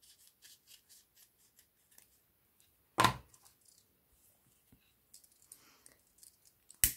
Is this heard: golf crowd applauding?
no